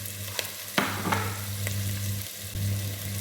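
Green chillies and ginger garlic paste sauté in a pan for a home-style Tamil cuttlefish fry, a steady sizzle with a few sharp stirring scrapes and clinks, close by, over a low constant hum, no talking.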